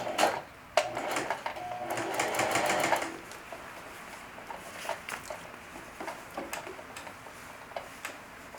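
A sewing machine stitching fabric in fast rattling bursts, with a sustained run near the start and then lighter intermittent ticking and clicks, close and clear with no talking.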